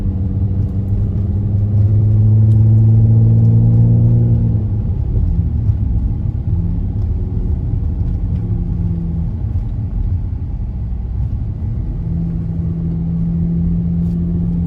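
Interior engine rumble from a 7th gen Nissan Maxima shaking under full throttle, a loud, steady low drone with rising engine tones that ease off and return.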